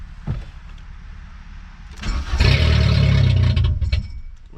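Junkyard Volkswagen Golf 3 engine cranks and briefly catches with a loud burst of revving, then dies, leaving quieter background; a door-like clunk is heard early on.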